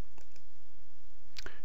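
Computer mouse clicking an OK button, a couple of sharp close clicks at the start and another pair near the end over faint background hiss.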